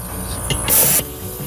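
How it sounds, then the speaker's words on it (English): Brake cleaner from an aerosol can is sprayed onto a semi-truck tire bead in a short, close burst of sharp hiss, over a low background hum. "spray a little bit of brake cleaner up in there, right here."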